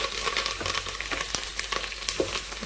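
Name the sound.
tempering sizzling in oil with curry leaves and green chillies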